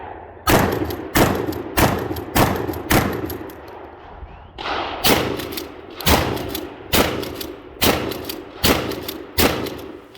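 A TAC 14 Hardwood shotgun fired from the hip, giving about ten loud, sharp blasts at a steady pace with a short pause in the middle, each shot ringing out with a brief echo tail.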